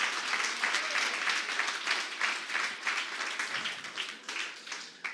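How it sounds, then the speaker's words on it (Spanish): A church congregation claps and applauds steadily for about five seconds. The sound is dense and sustained, then tapers slightly toward the end, with faint voices mixed into the crowd. "Dale otro aplauso al Señor si puede"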